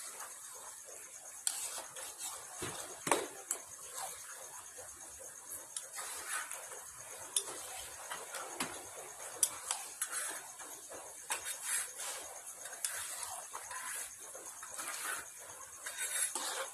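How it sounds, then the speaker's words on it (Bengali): Chicken being stirred in an open pot, with light clinks of utensil against metal scattered across a steady background hiss, soft and moderately close. "আমরা আবার ঢাকনা খুলে মাংসটাকে নাড়িয়ে নেব।"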